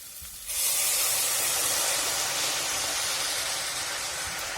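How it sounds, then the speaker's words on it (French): Boiling water pours into a hot pan of spiced vegetables, a sudden loud hiss of steam and sizzle that starts after half a second and holds steady, close up, with no talk. "maintenant, on ajoute de l'eau bouillante. Environ 1 litre de bouillon"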